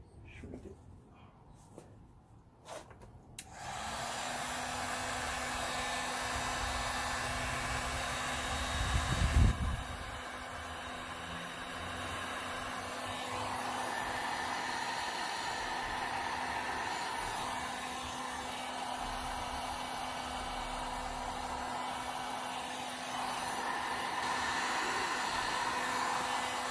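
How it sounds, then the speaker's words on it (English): A heat gun blows with a steady, close, loud roar while shrinking heat shrink tubing on LED blinker wiring for a Can-Am Ryker front fender. Faint clicks come before it starts, and it runs continuously to the end. "enough to use for a heat gun and shrink it"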